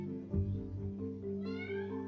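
A cat meows indoors while staring at a wall: a couple of drawn-out, wavering meows, fairly close and clear, with no talk over them.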